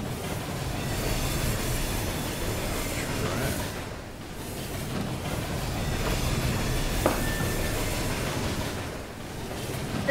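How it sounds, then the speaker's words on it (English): In the video game Murdered: Soul Suspect, a loud train passes by with a continuous rumbling roar and faint clattering, dipping briefly before surging again, dominating the scene. "That train is so fucking loud."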